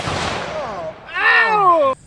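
A Browning bolt-action rifle chambered in .223 super short Magnum fires outdoors near a gorge, a loud blast with a long rolling echo, followed by a voice.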